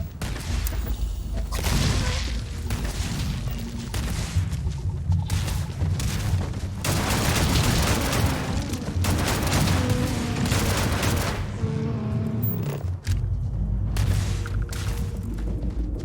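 Dense gunfire in the video game Starfield: rapid, overlapping shots and heavy bursts go on nearly nonstop, loud and close, with deeper booms mixed in.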